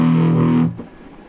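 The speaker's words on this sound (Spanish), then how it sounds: "el fuzz, además de romper la señal, si lo subo aumenta los agudos o aumenta la distorsión en agudos" Fuzz pedal distortion on an electric guitar rings out as a loud, saturated sustained note for just over half a second, then cuts off abruptly and fades into quiet.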